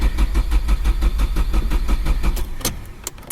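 A Nissan Primera with an SR20DE engine cranks without starting, the starter churning in a fast, even rhythm for about two and a half seconds before stopping, close and loud, no talk.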